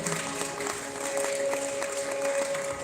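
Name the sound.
applause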